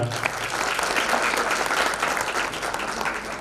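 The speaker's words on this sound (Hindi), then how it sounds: "इनके लिए भी एक तालियां मैं चाहूँगा।" Audience applause fills a hall after a stage play about Lok Mata Ahilya, a steady, dense wash of many hands clapping at close range throughout with no pauses.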